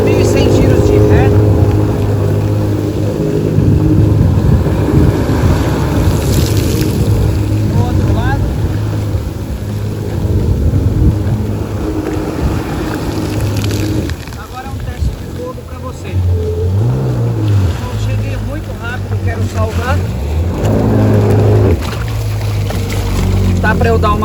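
A 2021 Yamaha VX Cruiser HO jet ski engine runs in reverse at 3100 rpm on the water, a loud sustained motor rumble with wind buffeting, while someone talks over it throughout.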